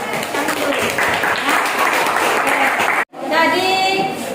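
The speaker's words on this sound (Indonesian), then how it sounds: "tepuk tangan juga untuk kelompok 2" Classroom applause for a student group after a presentation, a dense patter of clapping for about three seconds that stops abruptly, followed by voices.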